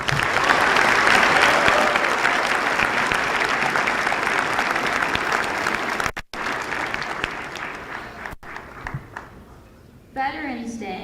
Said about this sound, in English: A round of applause and a thank you to Marcelo Kolb on the playing of taps.